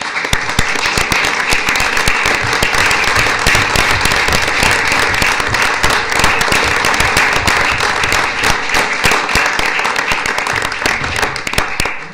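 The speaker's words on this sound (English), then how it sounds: "Let's have a round of applause for these great." Steady, dense applause from an audience at a town board meeting fills the room and holds at full strength for about twelve seconds, tapering only at the very end.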